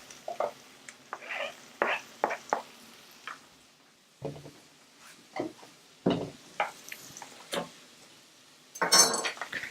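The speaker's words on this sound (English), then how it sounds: "we're gonna cook the onion and the asparagus for about 1 minute" Asparagus and onion sautéing in a pan for asparagus soup, a quiet sizzle broken by irregular clinks and scrapes of a utensil against the pan, with no voices.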